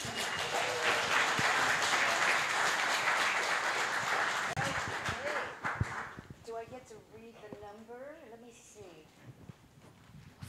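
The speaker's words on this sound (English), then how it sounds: "Round of applause, please." An audience claps loudly for several seconds, the applause fading out as a voice begins speaking over the dying claps.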